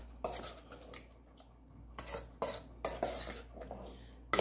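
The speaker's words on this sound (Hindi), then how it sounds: "इसको फिर हम अच्छे से मिक्स कर लेंगे।" A spoon scrapes and clinks in a bowl as tamarind and date chutney is stirred into a corn and pineapple chaat, several short close clattering strokes against a quiet background.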